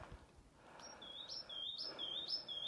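A bird chirps a series of clear, repeated high whistles, evenly spaced over a soft background hum.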